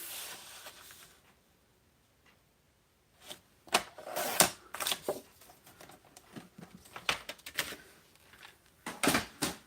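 Cutting cardstock to size for an embossing project, heard as quiet handling followed by a series of close, crisp slicing and snapping strokes in irregular bursts, with no talking.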